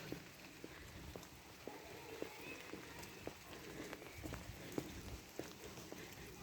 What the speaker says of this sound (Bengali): বেশ কথা বলতে বলতে বেশ জোরে সোরেই বৃষ্টি পড়ছে।